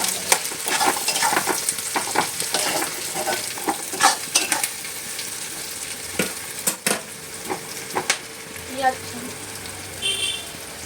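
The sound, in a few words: onions frying in a pan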